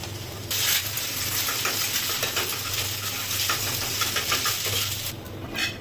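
Vegetable fried rice stirred in a hot pan: a dense, close sizzle with scattered metallic clinks and scrapes of a spoon against the pan, starting after a short pause and fading near the end.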